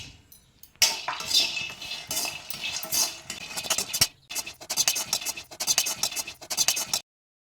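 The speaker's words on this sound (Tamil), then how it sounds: "இப்போ இந்த கல்லக்கொட்டையை போட்டு வறுத்துக்கலாம்" Peanuts being dry-roasted and stirred in a pan while making black urad dal laddu, giving a busy run of scraping, rattling clinks of nuts and spoon against metal, steady and close with brief pauses.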